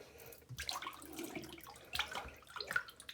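Liquid-Plumr clog destroyer poured into a drain, producing soft irregular splashing and gurgling bursts, quiet and close, with no talk.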